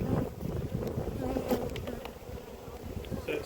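Honeybees buzz around a hive in a close, continuous drone, a busy swarm hum with small rises and dips, quiet and steady with no talking.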